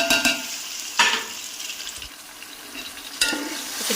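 Garlic ginger paste hits hot ghee with browned onions in a pot, giving bursts of crackling sizzle with a few sharp spikes as it is stirred, then a softer frying hiss in between.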